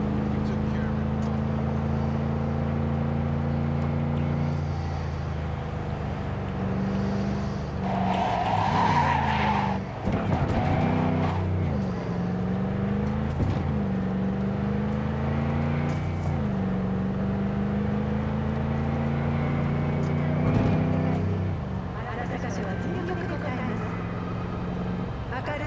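A car speeds through the streets of Cyberpunk 2077, its engine droning steadily and shifting pitch as it accelerates and brakes, with tires skidding and squealing through turns over about twenty-five seconds of continuous, fairly loud driving.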